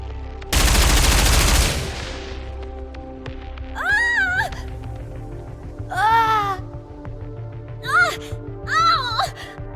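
A video game scene with gunfire from experimental suppression rounds, a loud dense burst of rapid shots up close, followed by several short wavering warbling tones over a steady background hum.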